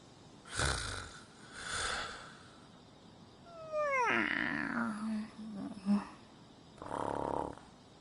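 Characters snore in the Persona 5 Strikers video game: several soft snoring and breathing sounds, one with a falling whistle-like tone, spaced over several seconds with quiet gaps between them.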